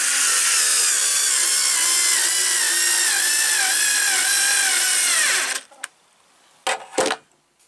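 A SKIL 2710 power screwdriver drives a screw into wood, a loud steady high motor whine that bogs down in pitch as the screw seats, then cuts off, followed by a few short clicks and a brief whirring burst.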